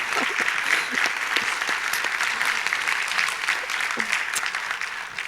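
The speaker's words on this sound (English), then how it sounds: "please give her a round of applause and welcome panel 3" An audience at a photography symposium applauds a panel with steady, dense clapping from a large seated crowd that continues throughout, with faint voices mixed in.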